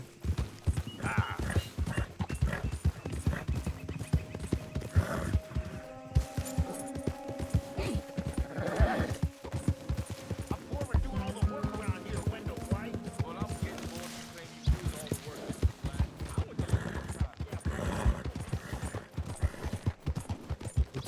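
Horse hooves clip-clop in a steady, dense rhythm with an occasional whinny in the video game Red Dead Redemption 2, close and continuous, with voices and other game sounds layered over the gait.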